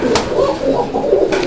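A pair of Bombay pigeons, male and female breeding birds, coo softly up close in a few throaty, rolling calls.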